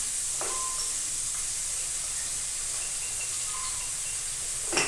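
Bitter gourd and onion frying in a pan, a soft continuous sizzle and hiss with a couple of faint utensil clicks, steady and close with no talking.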